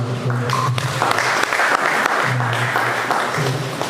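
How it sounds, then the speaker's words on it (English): An audience at a community event applauding, fairly loud and close with irregular claps, while low voices murmur underneath at times. "We can clap for him."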